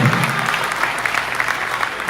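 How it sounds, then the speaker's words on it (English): Steady applause from a town hall audience for President Julius Maada Bio, a dense, even roar of many hands clapping at once. "another clap for His Excellency"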